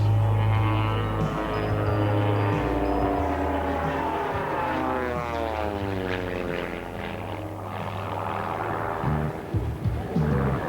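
Wayne Handley's aerobatic propeller plane dives at the 1987 California International Airshow, accelerating past 200 mph. The loud, continuous engine and propeller roar shifts steadily in pitch as it speeds, with sweeping tones throughout.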